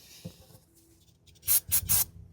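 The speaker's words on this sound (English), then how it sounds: "the next thing I'm going to do is clean up the caliper" A rag or brush rubs over a car brake caliper on a Mazda CX-5, three quick harsh scrubbing strokes after some faint handling noises, close and fairly quiet.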